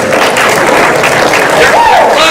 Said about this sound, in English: They're clapping. They're clapping for you.